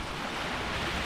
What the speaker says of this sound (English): I'm assuming all that water is going straight down